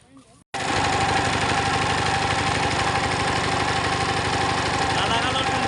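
A boat engine runs on the Lalakhal river in Sylhet, kicking in after a brief quiet start and then holding a loud, close, steady drone with a rough mechanical rattle.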